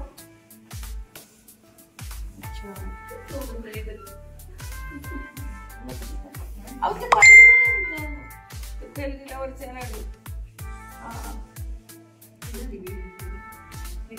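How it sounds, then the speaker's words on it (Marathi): An electronic call bell chimes in short repeated bursts over steady rapid clicking, with a louder ring midway and faint voices nearby in a hospital. "बेल बंद करा."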